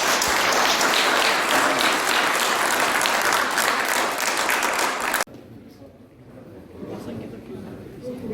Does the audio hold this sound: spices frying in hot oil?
no